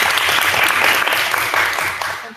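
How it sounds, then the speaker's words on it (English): An audience at a meeting gives a round of applause, with dense, steady clapping that stays strong for about two seconds before tapering off at the end. "Can we get a round of applause for Ashley?"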